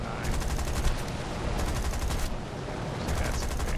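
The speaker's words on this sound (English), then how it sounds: "I'm being fired at from behind by another 109" Machine-gun fire from a Bf 109 in a flight combat game, three rapid bursts of clattering shots over a constant engine drone, fairly close and loud, with no talking.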